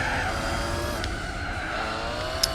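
Race car drifting on a track in Gran Turismo 4, a continuous engine roar with sustained tire squeal, loud and close throughout, with no talking.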